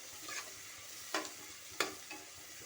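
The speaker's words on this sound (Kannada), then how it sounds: "ಹಾಕಿ ಇದನ್ನು ಚೆನ್ನಾಗಿ ಈ ಥರ ಕಲಿಸ್ಕೊಳ್ರಿ, ಎಲ್ಲ ಕಡೆಯೂ ಚೆನ್ನಾಗಿ ಫ್ರೈ ಆಗಲಿ ಅಂತ" Rice and vegetables fry with bisi bele bath powder in a pan, with a soft steady sizzle and a few brief scraping stirs of a spoon, faint and close.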